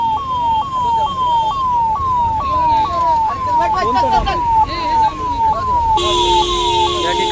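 An ambulance siren wails loud and close in a fast, repeating rise-and-fall cycle at a roadside accident scene, with some voices and traffic noise around it.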